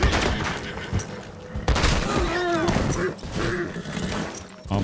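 Shotgun blasts in Red Dead Redemption 2 Online, a burst of loud gunfire cracking over game ambience, with a voice talking underneath.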